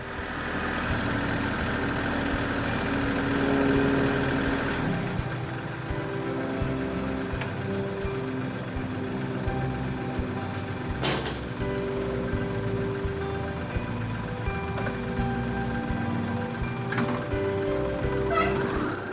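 A Kubota tractor engine idles steadily before mowing with a Land Pride RCR1860 rotary cutter. It gives a continuous mid-to-low hum with a few sharp mechanical clicks and clanks, and no voices.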